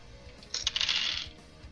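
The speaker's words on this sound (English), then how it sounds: "Busting out my Warhammer dice." Warhammer dice tumbling during a Dungeons & Dragons tabletop session, a brief bright clattering rattle lasting under a second, close and moderately loud, with no talk.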